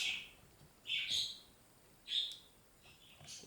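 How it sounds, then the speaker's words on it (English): Small pet birds chirp indoors in short, faint, high bursts, three or four separate calls spaced a second or so apart over quiet room tone. "If you hear some birds, those are mine"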